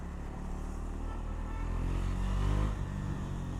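A KTM 390 Duke Gen 2 motorcycle engine drones steadily while riding, a low constant rumble with wind noise that swells slightly in loudness near the middle before settling back.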